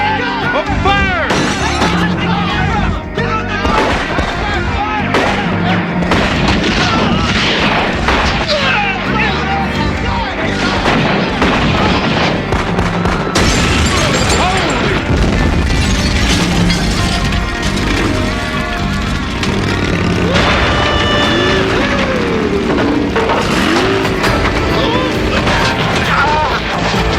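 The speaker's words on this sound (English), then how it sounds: "Open fire!" A movie shootout brings dense, sustained gunfire, with repeated loud shots, crashes and bursts under shouting voices and a tense soundtrack throughout.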